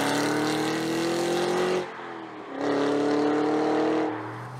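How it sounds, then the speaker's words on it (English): A Cadillac CT5-V Blackwing's exhaust echoes off rock cuts of the Canadian Shield, a deep, steady engine drone that climbs in pitch, drops away briefly at a gear change, then pulls again, loud and close. "The exhaust sounds especially fantastic, echoing off of great big slabs of the Canadian Shield"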